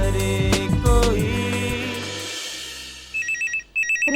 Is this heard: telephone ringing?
yes